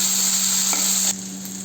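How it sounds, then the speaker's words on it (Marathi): Chopped onion sautéing in a pan for moong bhaji, a steady close sizzle with a faint stir scrape, dropping quieter near the end; no talking. "आता कांदा व्यवस्थित परतला आहे"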